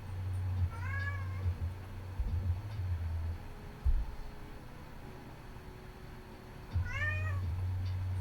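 A pet cat meows twice for treats, a short meow early and another several seconds later, close and clear over a steady low hum.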